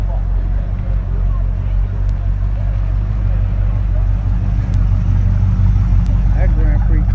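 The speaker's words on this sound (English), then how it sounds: "They got a Grand Prix pulling up" A Pontiac Grand Prix rolls up at a car show, its low engine rumble steady and close beneath a busy crowd with voices chattering throughout.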